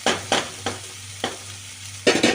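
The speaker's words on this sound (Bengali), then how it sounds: "আদাটাও এর সাথে একটুখানি ভাজা ভাজা করে নিচ্ছি" Ginger sizzles in a hot pan while a utensil scrapes and stirs in several sharp strokes, with a steady frying hiss underneath.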